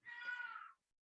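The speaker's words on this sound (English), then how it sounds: "sorry if you hear my cat, she's having a hissy fit for some reason" A pet cat lets out a single short, tense meow-like yowl, close by and fairly quiet, lasting under a second before silence.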